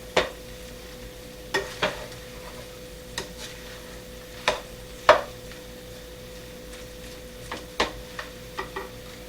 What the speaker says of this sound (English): So now I'm going to put the egg and fried onions and bacon in here. I'm going to mix it a little bit.